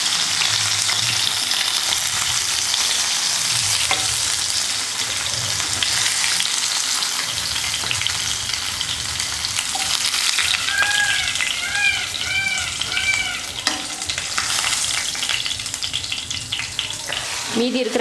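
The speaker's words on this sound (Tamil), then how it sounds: "மீதி இருக்கிற மீனையும் பொரிச்சுக்கலாம்." Sardine pieces fry in hot oil in a Tamil home kitchen, giving a loud, steady crackling sizzle throughout with a few brief clinks and chirps partway through.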